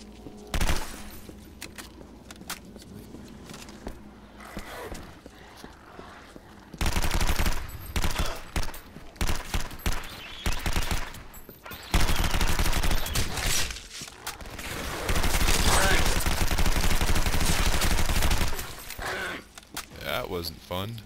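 Assault rifle fire in a video game, loud bursts of automatic shooting in several sustained volleys with sparse single shots between them, a voice talking over the quieter stretches.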